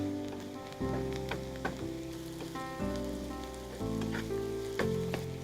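Paneer cubes frying with onions in a hot pan or tawa, giving a steady, close sizzle with crackling spits. Faint background music runs underneath.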